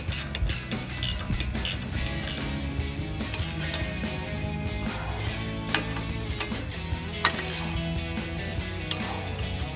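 A 14 mm ratchet clicks steadily as it tightens a nut on a Chevrolet Silverado 1500 front suspension during a leveling kit install, with close metallic ratcheting mixed into garage noise.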